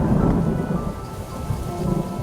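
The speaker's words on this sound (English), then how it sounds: "looks like another storm coming" A thunderstorm with steady rain pattering on surfaces and low thunder rumbling throughout, a continuous, fairly loud wash of storm noise with no voices.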